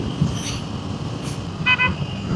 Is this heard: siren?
no